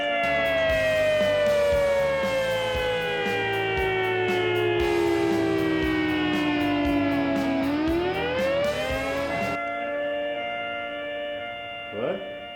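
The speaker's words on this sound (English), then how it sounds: "3 loud blasts of the emergency warning siren will sound, or, depending on the project, 1 long continuous blast" An emergency warning siren blasts loudly on a construction site, a long continuous wail with layered tones that slide slowly downward, rise again, then cut off near the end.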